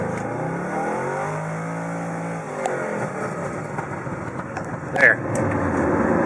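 A stock 2006 Pontiac GTO engine revs up toward the shift light, a rising, steady drone with a sharper burst near the end, and someone speaks briefly over it.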